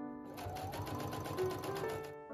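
A sewing machine runs a short, steady fast-stitching burst along a folded satin skirt hem, close and clear with an even mechanical rhythm and no voices.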